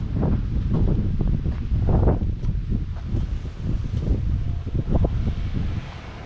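Steady wind gusting outdoors by a wooden church, roaring and buffeting the microphone in broad low rumbles with rustling texture throughout, close and fairly loud, no voices.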